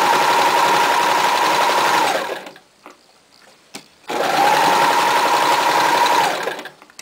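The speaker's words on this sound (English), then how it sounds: "So now I'll turn it this way, presser foot down, and continue to stitch." A sewing machine stitches cotton cloth wipes in two loud, steady runs of about two seconds each, separated by a short pause while the fabric is turned at a corner, with no one speaking.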